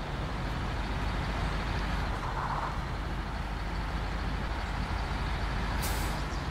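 A heavy truck in the SnowRunner video game on Xbox One drones steadily with a dense, unbroken engine and road roar. A short, sharp air-brake hiss bursts out near the end.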